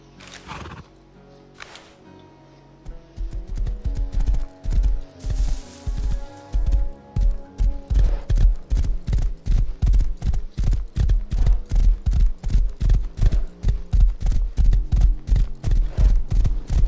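Horse hooves clip-clop steadily in a role-play video game, the regular beats growing loud and close after a few quiet seconds, with the horse whinnying near the start.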